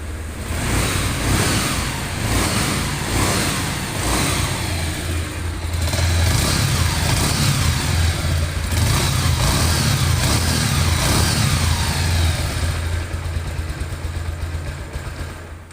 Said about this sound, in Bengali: বাইকটির পিক আপ টেনে এবং ছেড়ে দিয়ে আপনাদেরকে বাইকটির সাউন্ড কোয়ালিটি দেখালাম